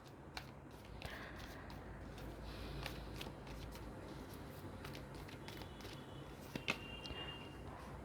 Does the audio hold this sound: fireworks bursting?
no